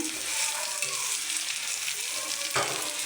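Egg bhorta mash being fried with onions in a pan, giving a steady close sizzle with faint stirring scrapes and a brief louder burst near the end.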